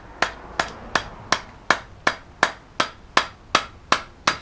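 Evenly spaced hammer taps on gasket paper for a 1988 Mini, about a dozen sharp light strikes in a steady rhythm, close and clear with nothing else around them.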